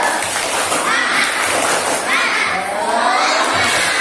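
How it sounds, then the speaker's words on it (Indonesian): Schoolchildren in an Islamic studies class doing a spirit clap together, loud rhythmic clapping mixed with excited shouting and cheering from many young voices, close and continuous throughout. "Tepuk semangat dulu."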